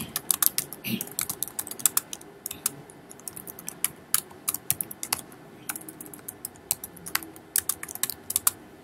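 Rapid, uneven clicking of a computer keyboard as Java code is typed, steady close keystrokes in quick bursts, with someone speaking faintly underneath.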